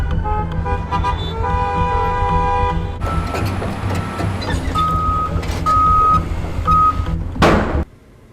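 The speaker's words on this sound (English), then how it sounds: "Traffic, honking horns, and the incessant sound of construction are everywhere." Mixed city street traffic with vehicles passing, beeping tones, and repeated steady horn toots in a row near the middle, followed by a loud close burst as a vehicle rushes by at the end.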